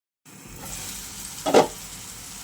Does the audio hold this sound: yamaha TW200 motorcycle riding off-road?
no